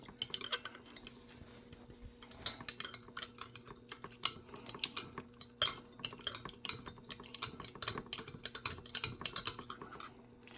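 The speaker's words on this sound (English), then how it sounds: "I'm going to have to again stir it a little bit" Wormwood steeped in alcohol is stirred in a container ahead of adding mineral oil for an insecticide extract, giving a close, irregular run of light clinking and tapping taps against the vessel with no one talking.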